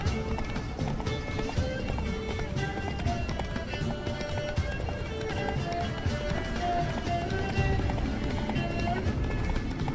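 Geralt's horse Roach galloping in The Witcher 3, a steady rapid hoofbeat rhythm that runs throughout, close and loud, with music and other game sounds layered over it and speech mixed in.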